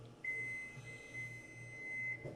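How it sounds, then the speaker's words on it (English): Oven timer beeping in a home kitchen: one steady, sustained high electronic tone rings for about two seconds over a quiet room hum, close and clear. "There goes the timer."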